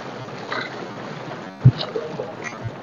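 Flowing Himalayan river water in Nepal makes a steady broadband rush, with one brief dull thump partway through and no voices.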